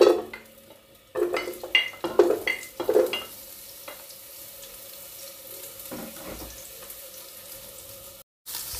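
Onion hits a hot pan with a burst of sizzling and stirring scrapes in the opening seconds, then settles into a steady low frying hiss with occasional utensil clinks, near and fairly loud at first.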